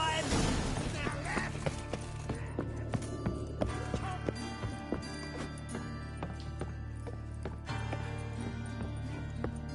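Horse hooves clip-clopping at a gallop in The Witcher 3 game, a steady run of rhythmic hoof beats under a background music bed with scattered clanks, fairly close and moderately loud.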